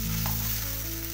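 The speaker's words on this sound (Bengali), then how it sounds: "কষিয়ে নিতে হবে, যাতে আলু, পটল, সয়াবিনের গায়ে মশলাটা খুব ভালো মতো মিশিয়ে যায়।" Potato, pointed gourd and soya chunks sauté in spices in a little oil, giving a steady close sizzle with a brief stir scrape, no voices.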